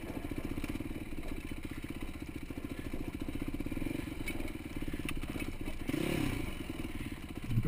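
A CR450 dirt bike engine drones steadily on a trail at Stony Ford, a continuous close rumble with clattering and scraping from the terrain, and a throttle swell near the end.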